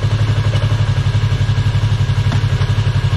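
A motorcycle engine running steadily with a regular low throb as a rider slowly releases the clutch, loud and close, with no voices.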